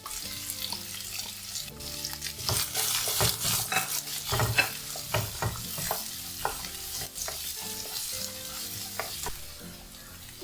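Sliced onions and green chillies sautéing in a pan for a potato and beans masala, with a steady sizzle broken by repeated scraping and stirring strokes, close and moderately loud, with no voices.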